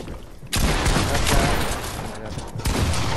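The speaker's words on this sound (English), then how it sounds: "We're getting shot at." Fortnite gunfire during a competitive FNCS match: a dense burst of rapid shots opening after a brief lull and running loud and continuous, with a player's voice talking over it.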